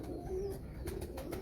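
A female pigeon gives low, soft cooing notes close by, a couple of short throaty coos against a quiet background with some light rustling.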